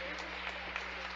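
A church congregation claps together in a dense, steady burst of applause that sounds distant, with a voice speaking over it.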